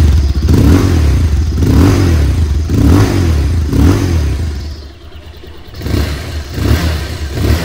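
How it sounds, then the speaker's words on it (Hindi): A 2023 Bajaj Pulsar 220F motorcycle engine idles with a deep, throbbing exhaust rumble, revving in repeated surges before settling back, close and loud throughout. "सबसे पहले मैं बाइक के इंजन के एग्जॉस्ट के साउंड को सुना देता हूँ"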